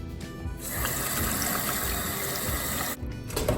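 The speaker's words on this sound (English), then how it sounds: "you want to transfer this into a kind of medium-sized pot like that, and then you want to fill out the water" Tap water runs into a medium-sized cooking pot for about two and a half seconds, a steady gushing splash, with brief quieter moments at the start and end.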